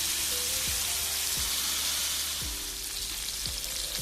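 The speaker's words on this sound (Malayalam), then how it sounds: "നമ്മൾ വറുക്കാൻ ഇട്ട് കൊടുത്തിട്ടുണ്ട്." Prawns fry in a pan for a Kerala-style prawn roast, giving a loud, steady sizzle and hiss throughout, with a few soft taps from the pan or spatula at intervals.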